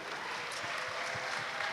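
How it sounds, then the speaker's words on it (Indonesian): A studio audience applauds faintly at a talk-show style event, a soft, even patter of clapping with no voices over it. "Tepuk tangan untuk IDN Media dulu."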